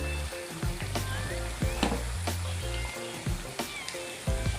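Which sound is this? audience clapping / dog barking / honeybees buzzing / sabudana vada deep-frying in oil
sabudana vada deep-frying in oil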